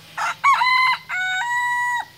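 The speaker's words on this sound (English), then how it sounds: "I think that rooster right here, he's right down here." A rooster crows nearby, a full, loud cock-a-doodle-doo with a sustained drawn-out final note, heard alone against quiet background.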